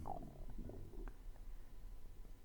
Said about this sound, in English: Here's my stomach trying to contribute to the ASMR community